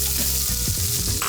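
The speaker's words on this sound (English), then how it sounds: "Onion going into the pan." Chopped onion hits hot oil with cumin seeds in a pan, a loud, dense, close sizzle that runs without a break under a few soft stirring knocks.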